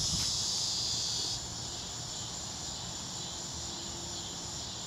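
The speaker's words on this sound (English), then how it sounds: "This is a combination of crickets and cicadas." Crickets and cicadas chirp in a dense, steady high buzz that drops slightly in level after the first second and then holds faintly, with no voices.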